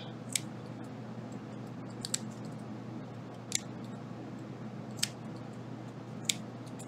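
Scissors snip through needlepoint canvas in five or six sharp, isolated cuts spaced about a second apart, close and crisp over a low steady background hum.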